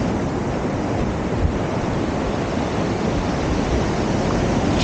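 Ocean waves break on the beach at Maspalomas, Gran Canaria, a loud continuous wash of surf mixed with wind buffeting the microphone, steady throughout with no voices.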